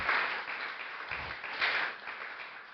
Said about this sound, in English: Let's all give another round of applause for Karen and Craig